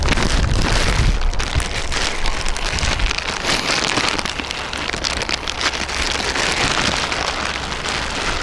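Light rain spits outdoors at Edinburgh Airport, a steady dense patter of drops striking surfaces nearby, continuous and fairly loud with faint low rumble underneath and no voices.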